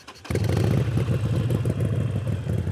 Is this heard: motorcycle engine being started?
yes